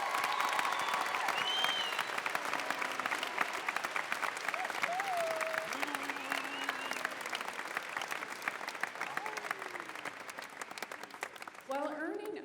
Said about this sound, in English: Let's give this important group of people a round of applause.